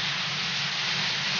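Chicken frying in a pan outdoors in a forest with salt added, a steady, close sizzling hiss throughout the short moment.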